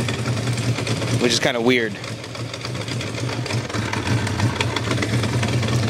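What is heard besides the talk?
1975 Honda CB400F motorcycle engine running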